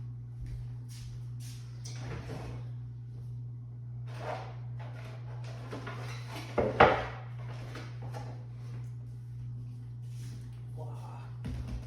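A wooden drawer slides open with a few soft knocks and rattles, under a steady electrical hum and occasional nearby murmuring, with one sharper clack midway.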